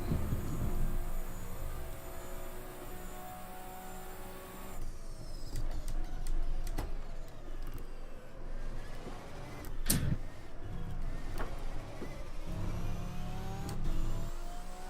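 A race car engine in the rFactor 2 racing game at the 12 Hours of Spa, revving and shifting continuously with roaring, rising and falling pitch throughout, steady and fairly loud.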